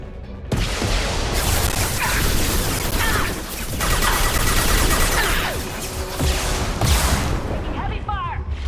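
Heavy gunfire in the video game Mass Effect 2 during a turret-hacking fight, with dense, loud bursts of shots and impacts running almost continuously, broken by a few brief lulls.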